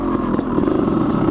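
Honda CR500AF two-stroke dirt bike engine pulling hard up a steep mountain hill in Canada, a steady loud close drone with no talk.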